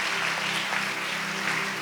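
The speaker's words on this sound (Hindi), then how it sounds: "फिर से ताली बजाकर प्रभु को धन्यवाद दें" Congregation at a church prayer gathering clapping together in thanks, a steady dense wash of applause throughout with no voices over it.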